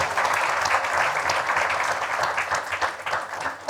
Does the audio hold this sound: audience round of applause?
yes